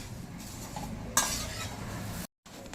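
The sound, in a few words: puffed rice being roasted and stirred in a pan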